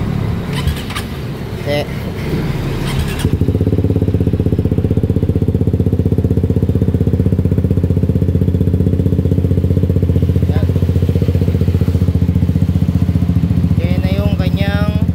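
A Suzuki GSX-S150 motorcycle fitted with a Yoshimura Alpha muffler starts up and idles loud and close, a steady throbbing exhaust drone with a brief rev near the end; someone talks briefly at the start.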